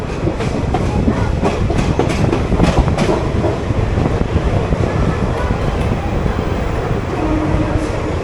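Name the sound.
train at Palakkad Junction station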